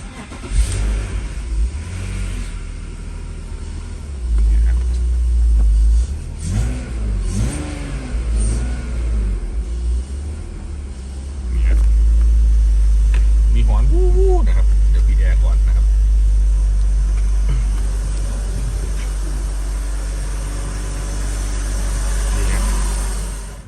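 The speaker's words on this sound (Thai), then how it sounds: "เสียงหอนนะครับเป็นไดชาร์ดนะครับ" A BMW E46 idles and revs with its engine bay showing a faulty, whining alternator. Engine drone runs throughout, with a couple of rising revs near the middle, and someone talks over it.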